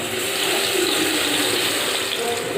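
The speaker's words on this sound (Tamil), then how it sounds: "எண்ணெய் சூடேறிடுச்சு, தக்காளி ஊற்றுறேன்." Ground tomato paste poured into hot cooking oil in a pan, giving a steady, loud broadband sizzle and crackle that holds evenly throughout, with no talk over it.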